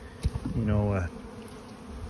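Honey bees at a thin, chilled hive colony give off a brief, close buzzing drone lasting about half a second, set against quiet background handling noise.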